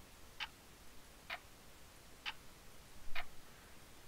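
Clock ticking in the video game Clock Simulator, four evenly spaced crisp ticks roughly a second apart, faint and alone over a quiet background hiss.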